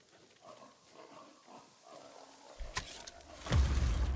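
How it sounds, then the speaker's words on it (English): A wild boar in Ghost of Tsushima gives low grunting and snorting calls, rising to a louder, rough squeal-like roar toward the end, heard alone with no talk. "Boar."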